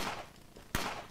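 A single sharp pistol shot rings out in the zombie survival game Fort Zombie, one loud crack standing clear above a steady wash of background game noise.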